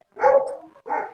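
Two barks from a dog, close and fairly loud, a longer bark followed by a shorter one after a brief pause, with no other sound around them.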